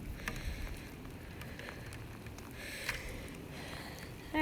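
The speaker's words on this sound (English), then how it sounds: "Oh, and it's raining out here." Steady rain pattering outdoors, a continuous broadband hiss with scattered drops, moderately close and without talk.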